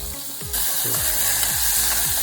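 Onion drops into hot oil in a pan over an outdoor campfire and flares into a loud, continuous sizzle that holds steady, with faint low crackle and clatter beneath.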